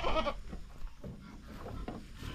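Goats bleating on a farm, one loud close bleat at the start followed by quieter animal calls and faint background noise.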